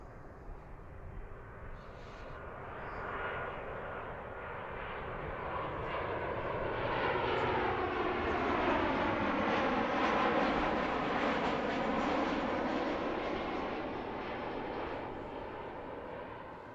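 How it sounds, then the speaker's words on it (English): A Delta Boeing 737-800 jet on approach to Harrisburg International Airport passes overhead as a faint, distant roar that slowly swells and then eases, with the pitch sweeping downward. "That's the Delta 737-800 coming in from Atlanta."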